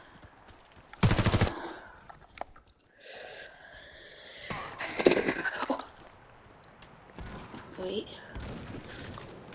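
Gunfire in the Warface shooter video game: a few sharp bursts of shots spread across the clip, fairly faint under a player talking.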